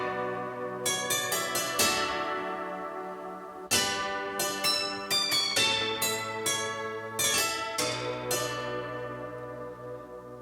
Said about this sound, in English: here's our first sound. It's TS Dulcimer